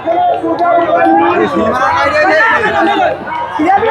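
A large crowd gathered for a bull race in Osmanpur, Jessore, fills the air with dense, continuous chatter and overlapping voices, loud and close, with one voice standing out above the babble.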